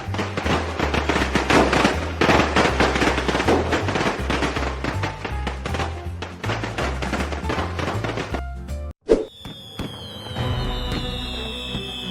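Fireworks and firecrackers going off in rapid, dense bursts of crackling explosions, loud and continuous, then a short pause followed by a sharp bang and whistling, fizzing trails.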